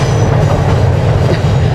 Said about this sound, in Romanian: avem și un tren pe aici, suntem în zona gării